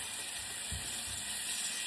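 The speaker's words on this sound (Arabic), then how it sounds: "والحين نحرك كل المكونات مع بعض" Shrimp dish ingredients stirred together in a pan, a soft steady sizzle with a couple of low scraping stirs, brief and fairly quiet, no voices.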